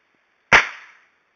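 A single suppressed MP5 shot cracks sharply at close range, then a short ringing tail fades within half a second, with no talk around it.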